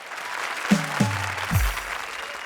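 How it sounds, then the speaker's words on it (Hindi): A comedy show audience applauds with continuous dense clapping, while a few deep booming sound-effect hits ring out over it. "जोरदार तालियां राजा के लिए"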